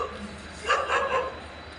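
A dog barks a few times at a middle distance, short sharp yips bunched together, over a steady outdoor background hum.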